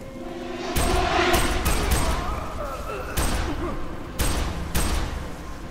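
Heavy gunfire in the shooter game F.E.A.R. 3 comes in a series of sharp, loud shots and short volleys spaced a second or so apart, booming close, with a voice speaking among them.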